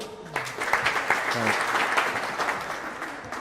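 Spectators at the All-Ireland Ladies Senior Singles 40x20 handball final clap enthusiastically in a steady burst, with a commentator's voice running over the applause.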